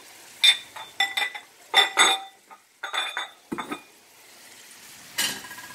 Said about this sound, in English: You're going to saute these babies with the onions and the garlic.